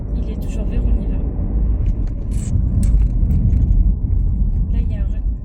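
Inside a car during a driving lesson, the engine rumbles low and steady as the car pulls away from a green light, with a voice talking over it.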